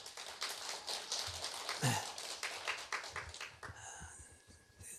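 A small church congregation claps for its choir in the sanctuary, a few seconds of scattered, moderately close applause that thins out near the end, with a short spoken word.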